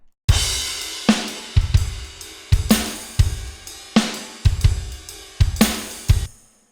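Tambourine layered over a produced drum pattern, landing on every other snare hit, with punchy kick and snare hits in a steady groove and bright jingly tops, loud and alone.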